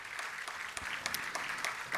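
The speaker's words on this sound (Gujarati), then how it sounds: "ફરીથી એકવાર તાળીઓના ગડગડાટ સાથે આપણે એમનું સ્વાગત કરીશું." An audience at a book launch for the book Microscope claps to welcome guests, a steady, dense round of applause that stays fairly faint and distant throughout.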